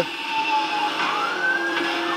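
Wailing police siren tones rise and fall over a steady engine drone, loud and continuous, in the racing game Asphalt 9 Legends.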